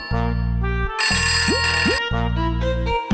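A phone rings with an electronic ringtone melody, repeating in bright tonal bursts with short gaps, loud and close, with no voices over it.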